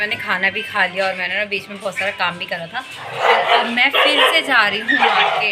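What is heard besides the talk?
dogs barking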